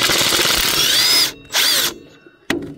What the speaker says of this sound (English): we're gonna take these bolts off here